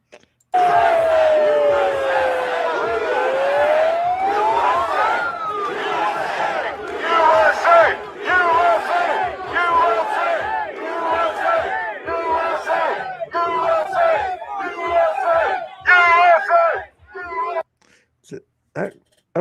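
A crowd of rioters and protesters shouts and yells, with dense overlapping voices and a rising whoop-like cry near the start, continuing loudly for around seventeen seconds before breaking up and fading.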